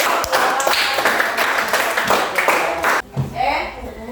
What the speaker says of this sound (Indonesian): kita tepuk tangan kasih aplaus